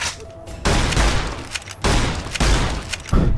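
Gunfire in the video game Fallout New Vegas, loud rapid bursts of shots in three dense volleys with brief gaps between them.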